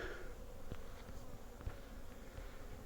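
A soft, constant buzzing of many bees flying around, faint and steady, with no voices.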